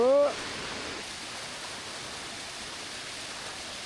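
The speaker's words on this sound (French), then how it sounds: "On descend pour faire la deuxième cascade" A waterfall near Mount Taranaki, New Zealand, sends out a continuous, even rush of broadband water noise, with a brief voice at the very start before the steady roar carries on alone.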